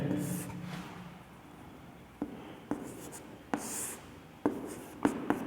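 Numbers being written by hand, a soft scratching of pen or pencil on paper with several short distinct strokes and taps, close and fairly quiet.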